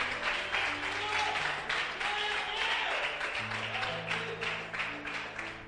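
A church congregation applauds in a large room, sustained clapping from many people over lingering organ or keyboard chords.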